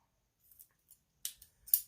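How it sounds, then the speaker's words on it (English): Paper snipped with a pair of scissors for a Christmas scrapbook layout, giving several short crisp cuts in quick bursts, close and fairly quiet, with no talking. "Pair of scissors here."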